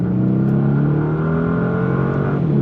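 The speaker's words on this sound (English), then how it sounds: "You have a good balance of exhaust and engine noise" A 2025 Bentley Continental GT Speed engine roars at full throttle, exhaust and engine note climbing steadily in pitch, loud and close throughout.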